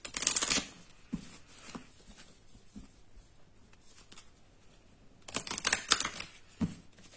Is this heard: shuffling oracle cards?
yes